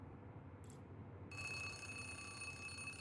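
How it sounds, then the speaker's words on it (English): Telephone ringing in the video game Zero Parades, a faint low hum that abruptly gives way to a steady, continuous high electronic ring held to the end. "That's the phone."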